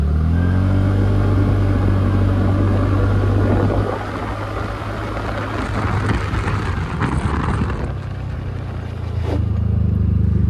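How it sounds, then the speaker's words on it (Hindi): A TVS NTorq 125 scooter being ridden during a front brake test on the road, its engine and road noise loud and steady, easing off midway before building again near the end. "तो गाइज़ अभी हम लोग टेस्ट करते हैं फ्रंट ब्रेक"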